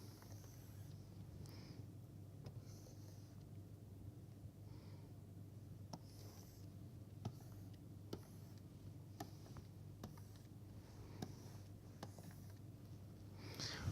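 Pen or marker drawing a panel of diagrams during a lecture, heard as faint scratchy strokes and scattered sharp taps spread over a quiet, humming room with no talk.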